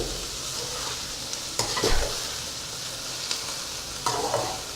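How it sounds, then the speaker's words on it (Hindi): Onions frying and softening in ghee for green masala chicken biryani, a steady bright sizzle with a few stirring scrapes and clatters, close and continuous with no talk. "हमारा प्याज नरम हो रहा है, बल्कि सोते हो रहा है घी के अंदर"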